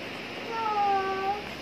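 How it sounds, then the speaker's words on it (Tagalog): A cat gives a single drawn-out meow, clear and fairly close, rising then falling in pitch over a soft background hiss. "Meow, meow, meow,"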